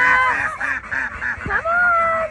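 A flock of ducks on a duck farm quacks loudly and close by in a rapid overlapping chorus, with a longer drawn-out honking call toward the end.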